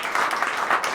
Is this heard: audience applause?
yes